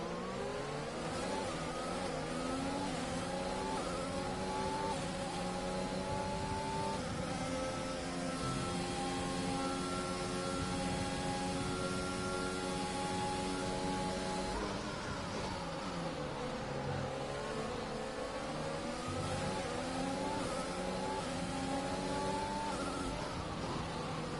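Formula 1 race car engines in the Braking Point story mode, driven without traction control, scream continuously at high revs, pitch climbing through gears with a dip mid-way as the car brakes and reaccelerates, loud and steady.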